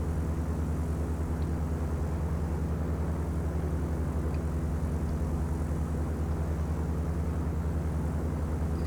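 A propeller airplane flies in a flight-simulator game, a steady droning engine hum that holds level throughout with no talk.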